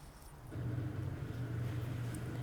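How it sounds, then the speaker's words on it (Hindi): A vehicle pulls up in a battle royale video game, its engine a low steady rumble that swells and grows louder partway through, then holds at a droning hum, faint and without talk. "तो इतनी देर में भी यहाँ पर गाड़ी आएगी, ये पाकिस्तानी स्क्वाड था, वो देखो वो गाड़ी आई"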